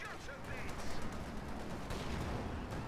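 Rapid automatic fire from a Centaur anti-air gun in Company of Heroes 2, a dense, continuous rattle of shots under battlefield noise with a voice talking over it.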